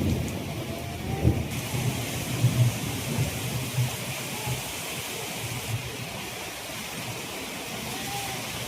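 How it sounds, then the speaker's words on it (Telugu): Heavy rain pours steadily outside during a thunderstorm, a dense close roar with low rumbles of thunder underneath, continuous with no voices. "బయట అయితే వర్షం అయితే మామూలుగా పడట్లేదు"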